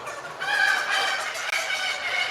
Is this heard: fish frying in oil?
no